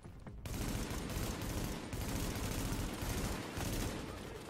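Sustained gunfire from The Division video game: dense, continuous automatic bursts start abruptly after a brief quiet moment and carry on loudly, with no speech.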